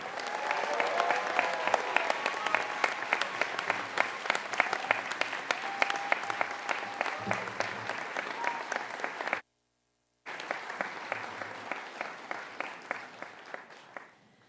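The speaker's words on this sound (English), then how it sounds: "And maybe just one last round of applause for the newest doctors and the team supporting them." A convocation audience applauds the newest doctors with dense, sustained clapping that fills the hall, briefly cut to silence, then resumes and gradually thins toward the end.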